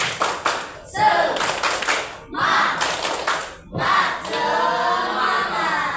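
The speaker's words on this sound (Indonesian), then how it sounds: "Sekali lagi, tepuk semangat." A school class does a rhythmic spirit clap together, sharp bursts of many hands in patterned beats with brief gaps between rounds, loud and close in a classroom.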